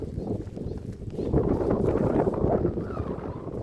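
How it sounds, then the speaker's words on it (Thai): Cool wind blowing outdoors past fields and rice paddies, a steady broadband rumble buffeting the microphone throughout, swelling slightly midway with no talk. "บรรยากาศลมเย็นๆ"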